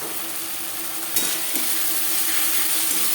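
Ginger and chilli are stirred as they fry in hot oil in a pan for a Bengali fish-oil recipe, a close steady sizzle with scraping stirs breaking through, no voices.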